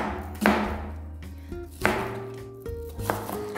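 Onion being chopped for a quick feijoada, three or four distinct knife thuds on a board spaced about a second apart, close and fairly loud, with no talk.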